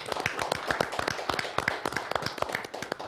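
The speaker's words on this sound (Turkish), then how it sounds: "Onlar için bir alkış rica ediyorum." A television show audience claps for the program hosts, a loose scattering of distinct, sharp hand claps close by, irregular and fairly sparse rather than a full roar.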